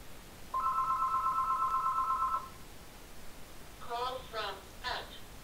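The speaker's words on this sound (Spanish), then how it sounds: "nunca se contesta el teléfono acá" A telephone rings in one steady electronic burst of about two seconds, then goes quiet, followed by a few short voice-like sounds, all fairly faint against background hiss.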